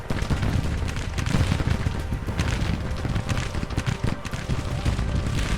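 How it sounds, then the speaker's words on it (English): Dense gunfire and artillery rumble through a large-scale battle simulation game, a steady barrage of overlapping cracks and booms with no voice over it. "Let those guns bang away behind you"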